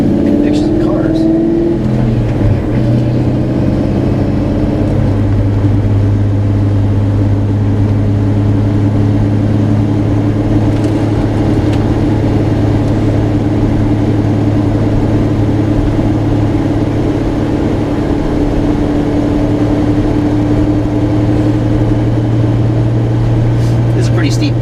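A 1995 Ford SVT Mustang Cobra engine drones steadily under load while pulling up a steep grade, its pitch rising slightly as it accelerates. Someone talks over the engine noise from inside the car.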